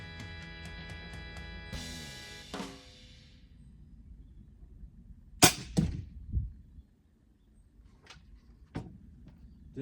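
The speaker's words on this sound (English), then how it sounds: "These are not the bolts that are firing out of this crossbow" Crossbow shooting bolts outdoors, with a sharp snapping release followed by quick clacks and a few fainter impacts spaced apart, after an earlier tonal ringing sound, moderately near.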